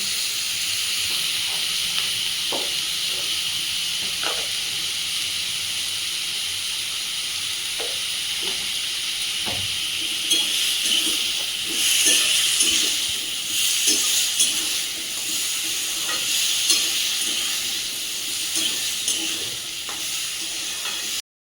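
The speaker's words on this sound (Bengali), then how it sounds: "লবণ আর হলুদ দিয়ে কচুগুলো ছেড়ে দেবো।" Taro pieces frying with salt and turmeric give off a steady, fairly loud sizzle and hiss, with scattered soft clicks and stirring knocks that grow busier partway through, no talking.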